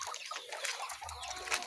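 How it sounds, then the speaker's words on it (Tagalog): Chickens cluck on a farm with pigs nearby, short quiet calls scattered over a faint outdoor background with a low hum. "ang dami manok"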